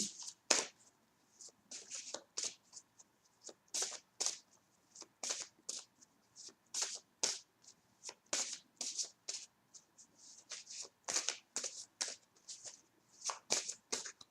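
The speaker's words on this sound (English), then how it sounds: "I shuffle until cards jump out of the deck." Tarot cards are shuffled over and over in quick, crisp bursts of riffling and flicking, close by and fairly quiet, with no talking.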